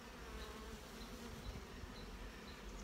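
Honey bees buzzing densely around hive frames in queen cell builder colonies, a continuous close, faint swarm hum with no talk.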